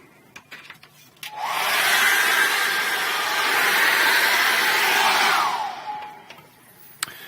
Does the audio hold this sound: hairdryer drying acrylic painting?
yes